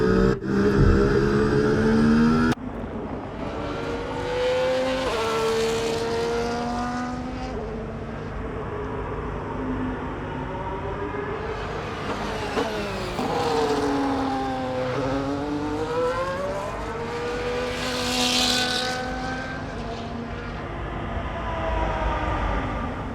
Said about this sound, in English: Riding on board with George Russell, looking at number 3 and number 4, Norris and Leclerc.